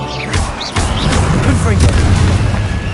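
A Confringo blasting spell explodes in Hogwarts Legacy, a sharp booming burst followed by crackling debris and rumble, loud and close, mixed with battle noise and brief voices.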